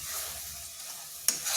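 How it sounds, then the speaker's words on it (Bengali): Coconut barfi mixture stirred continuously in a pan, a soft steady scraping with faint sizzle, quiet and close, with a brief sharper scrape near the end. "এই সময়টায় অনবরত নাড়তে হবে, না হয় নিচটাই লেগে যাবে।"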